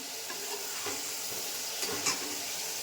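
Chicken gravy frying in oil in a pan, a steady faint sizzle with a few soft stirring scrapes and no voices.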